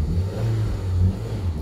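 Turbocharged Audi A3 engine revving hard during a test drive, a steady low roar that swells and dips in close, loud surges with no pauses.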